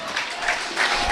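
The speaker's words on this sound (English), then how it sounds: "the round of applause you can hear is for Gateshead fan David Robson" Steady applause from a football crowd at a Boston United versus Gateshead match, marking a tribute in the 62nd minute, rising and falling as a continuous wash of clapping across the stands.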